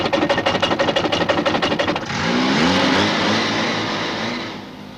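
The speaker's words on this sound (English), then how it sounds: "I turn on the ignition and I put the car in top gear. Then I'm going to use the wheel as a crank to start the car" A car engine cranked by hand-turning a wheel with the car in top gear: rapid rhythmic chugging turnover for about two seconds, then the engine catches and runs with a loud, steady roar.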